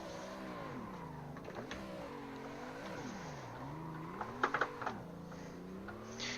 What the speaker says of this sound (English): So you just clutch kick like that, initiate your drift